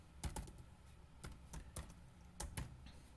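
Quiet keystrokes as program code is typed on a computer keyboard, coming in short bursts of two or three clicks with brief pauses between them.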